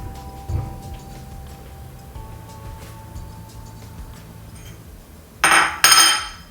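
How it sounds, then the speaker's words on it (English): A ceramic saucer clinks twice in quick succession as it is taken out to hold a cranberry muffin, after a quiet kitchen background. "Let me get a saucer to put my muffin on."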